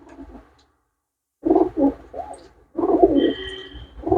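Pigeons coo in throaty bursts: one brief call, a pause of near silence, then two longer runs of rolling coos close at hand.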